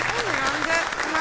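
Audience applause at an Italian variety show, a steady wash of clapping filling the short moment while a voice sings or speaks faintly over it.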